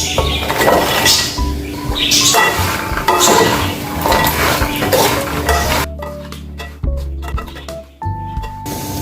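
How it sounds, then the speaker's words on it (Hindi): Almonds and walnuts tossed and stirred in a pan for panjiri, with steady scraping and clinking of a utensil against the metal, busy and close, then sparser knocks and taps near the end; no talk. "इसको भी हम थोड़ी देर के लिए फ्राई कर लेते हैं। साथ ही हम अखरोट भी डाल देते हैं।"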